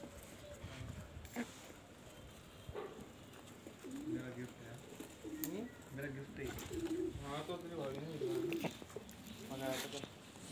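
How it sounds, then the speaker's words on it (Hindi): Pigeons coo softly in repeated low, throaty calls over a busy background hum, with occasional rustling and faint voices nearby. "कबूतर ही कबूतर।"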